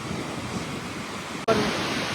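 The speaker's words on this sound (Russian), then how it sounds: "Ветер восточный, поэтому мы видим такие большие волны." Heavy stormy Black Sea surf at Odesa roars continuously under strong easterly wind noise, a dense, broad wash of crashing water close by, with no voices.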